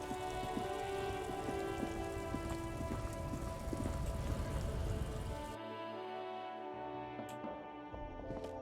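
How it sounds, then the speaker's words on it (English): Steady rain falls in the video game Disco Elysium, a dense continuous patter on surfaces that drops to a softer, thinner hiss partway through, with no talking. "This rain will not let up anytime soon."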